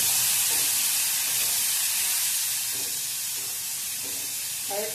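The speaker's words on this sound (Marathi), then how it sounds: "एक टोमॅटो बारीक चिरलेला घेतलाय, तो टाकून घेऊया आपण भाजून।" Finely chopped tomato hitting a hot pan of fried onion for a pigeon bean curry, giving a loud, continuous hissing sizzle that eases slightly over the few seconds.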